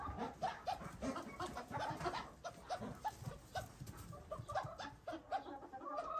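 Farm chickens, including a brooding hen, give repeated soft clucks and bird calls scattered across a busy small-farm yard, close by and moderately loud against steady outdoor background noise.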